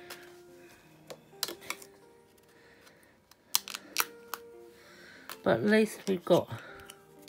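Scissors snip through cardboard in scattered, sharp cuts at close range, then a person talks over the last stretch.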